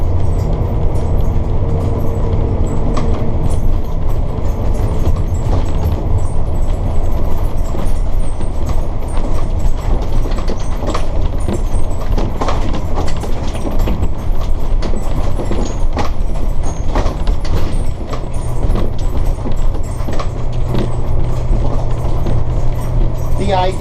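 Sportscoach diesel motorhome cruising a back road, a loud, constant low engine and road drone with rattles throughout, while someone talks over it.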